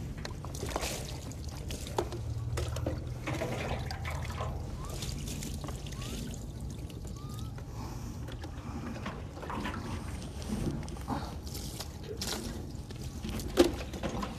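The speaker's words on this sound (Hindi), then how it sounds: "ये 3 दफ़ा हम पानी इस तरह से बहा देंगे" Water is poured over a body in several gentle splashes and trickles during ritual washing, quiet and close, with faint movement between pours.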